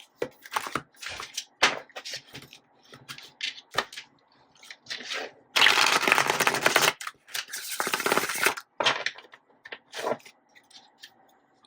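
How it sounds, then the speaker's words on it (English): Tarot cards being shuffled by hand, a run of crisp papery riffles and taps with a dense burst of flicking in the middle, close and fairly quiet, with no talking. "I'm going to give these a good shuffle."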